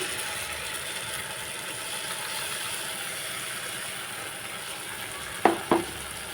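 Gongura paste sizzles in a pan of onions for a dried prawn curry, a steady even hiss throughout, followed by two sharp knocks of a utensil on the pan just before the end.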